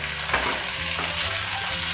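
Okra (bhindi) frying in a pan over a medium flame, giving a steady, even sizzle close by with a faint stir partway through, and no voices.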